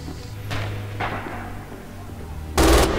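An MG42 machine gun fires in the video game Red Orchestra 2: a few short, loud bursts, close by, with the last burst the heaviest, and no speech.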